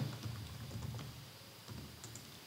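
Keys tapped on a computer keyboard while an SQL query is entered, a quiet, steady run of soft clicks at close range with no talking.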